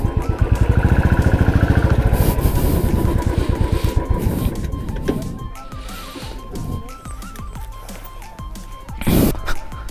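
A motorcycle ridden up a mountain road toward Methlang near Pokhara, its engine chugging in rapid loud pulses that fade, then quieter rumble and clatter with a brief surge near the end; faint talk mixes in.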